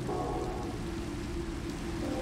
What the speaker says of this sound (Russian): И сразу же начался дождь.